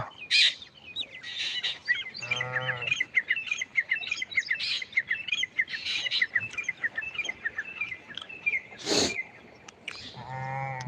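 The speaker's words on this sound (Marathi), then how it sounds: "या चिमणी कशी ओरडती बघा" Sparrows chirp busily in quick, overlapping bursts, with a few louder calls and a low animal sound breaking in now and then.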